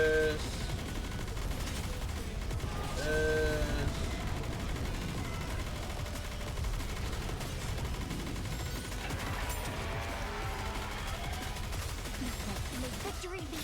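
Gunfire in the video game Goddess of Victory: Nikke, continuous rapid shooting and bursts layered with game music and effects, with voice lines heard over the action.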